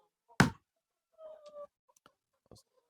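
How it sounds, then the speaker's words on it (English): Laying hens cluck softly in a few short, scattered calls, with a sharp knock at the start and light clicks in a quiet space with deep bedding. "These are laying hens."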